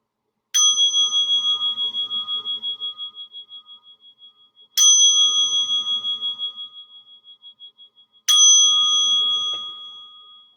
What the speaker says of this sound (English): I'll invite three sounds of the bell